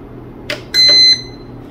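Electronic alarm beeps from a UPS unit signalling battery loss or discharge: a short beep followed by a longer steady tone, loud and close, with no talking.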